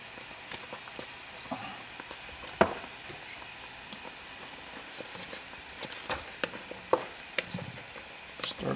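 Green onions are stirred into a cheesy Cajun shrimp pasta in a pan, a soft low sizzle broken by a few sharp scrapes and taps of the utensil against the cookware.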